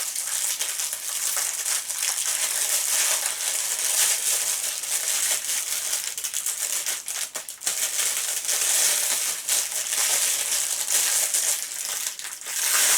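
Plastic packaging is opened up close, a dense, continuous crinkling and crushing that stays loud and steady throughout, with a few brief dips and no talk.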